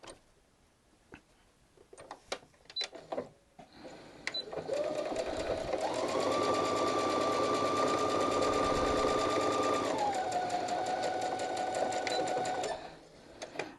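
Sewing machine chaining quilt pieces cut from charm packs, starting with a few short bursts and then running steadily for about eight seconds, its whir shifting pitch partway through before the machine stops.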